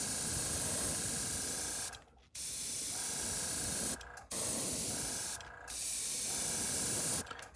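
An airbrush sprays yellow paint onto a custom S-Crank fishing lure in a steady, close hiss, broken into four long bursts by brief pauses.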